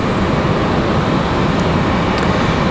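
An American Airlines Boeing 737-800 at stormy Raleigh-Durham airport makes a loud, steady broadband jet roar that fills the whole clip with no letup and no talk.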